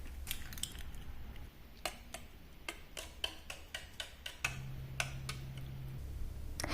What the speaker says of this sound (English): Now to the cake mixture, I add in 3 eggs and whisk.